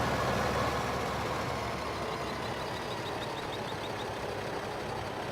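A tractor in Farming Simulator 2015 drones at a steady low rumble while working a sloped field, with a faint run of chirping beeps partway through.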